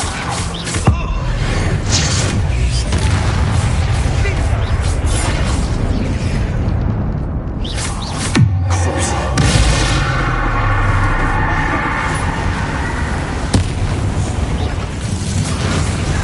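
Bombarda spell explosion in Hogwarts Legacy, a loud booming blast with crackling debris over dense battle noise, a few sharp bursts scattered through the stretch.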